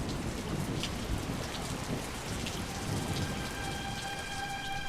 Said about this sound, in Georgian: დილიდან წვიმს, ჯერ არ შემწყდარა.